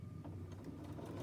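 A sewing machine stitches fabric for a scrappy Easter bunny, back stitching near a turning gap; a steady, low continuous motor hum runs throughout with no pauses and no talking.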